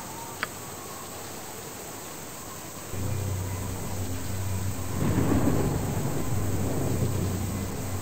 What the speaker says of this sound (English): The storm approaches.